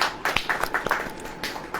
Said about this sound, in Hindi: अगर आप मानते हैं तो ताली बजाएं